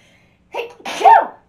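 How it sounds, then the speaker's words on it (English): A single exaggerated sneeze, a short breathy intake followed by a loud, bright burst, close to the microphone. "two sneezes in a row"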